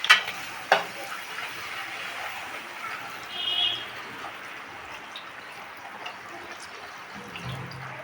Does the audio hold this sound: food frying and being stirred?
yes